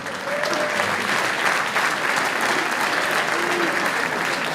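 An audience at a municipal campaign meeting in the Théâtre de Dreux gives a steady, sustained round of applause, loud and even throughout, with a voice faintly audible beneath it.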